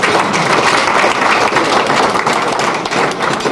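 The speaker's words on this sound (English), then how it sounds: "Applaud yourselves, please." An evening audience at a bocce federation event applauds, a dense, loud, steady wash of many hands clapping that fills the whole stretch without pause.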